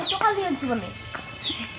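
A tethered chicken clucks in short, close bursts mixed with a person's voice in a home garden setting.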